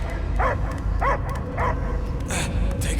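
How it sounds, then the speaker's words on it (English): A dog barks repeatedly in Marvel's Guardians of the Galaxy video game, a run of four or five short, sharp barks over a low, rumbling game soundscape, with faint voices in the background. "I hear only barking."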